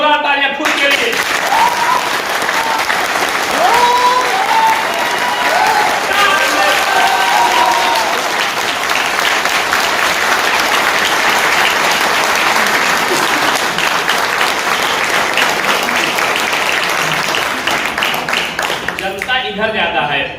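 A large audience at a Hindi success-story event claps loudly and continuously for about twenty seconds, a dense even roar of applause with cheering voices rising through it before it tapers off at the end.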